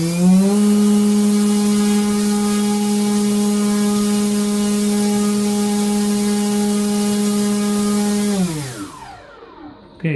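An EMAX CF2822 KV1200 brushless outrunner motor spins a small 7x3.5 propeller at a steady, loud, high-pitched whine. Near the end the pitch drops away sharply as the motor spins down.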